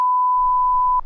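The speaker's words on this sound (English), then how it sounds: "But what were all the stupid beeps for?" A single steady electronic beep tone holds for about a second, then cuts off with a short faint blip, alone with no voices.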